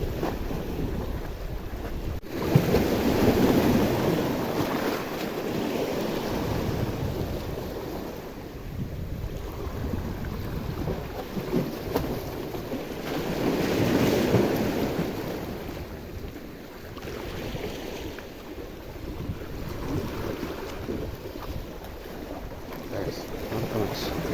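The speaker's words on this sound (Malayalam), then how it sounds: "കടൽ ഭയങ്കര റഫാണ്." Rough sea waves at Chellanam fishing harbour in Kerala produce a continuous rumbling surf that swells in heavy surges, mixed with gusting wind buffeting the microphone.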